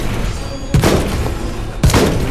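Two sharp gunshots from Final Fantasy XV, a pair of loud close bangs roughly a second apart over a steady game background with no talk.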